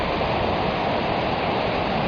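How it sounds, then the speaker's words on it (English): A waterfall along Waterfall Road in North Carolina, heard as a steady, dense, loud rush of falling water filling the scene without pause. "waterfalls and things"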